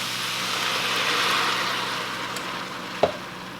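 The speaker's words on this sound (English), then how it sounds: "So I'm going to add our 1 cup of water" Water poured into a hot pan of frying cabbage and onions sets off a loud, steady hiss and sizzle that swells and then eases slightly. A single clunk near the end comes from the pan or a utensil, with no voices.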